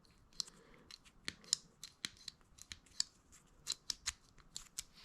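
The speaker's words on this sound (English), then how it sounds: "I'm just gonna cut a slit in here so that we can put the wire in the middle of that" Scissors snip a slit in a cover so a fog light wiring harness can be fitted through it. The cuts come as a quick, irregular run of crisp, close snips and rustles, fairly quiet, with no talking.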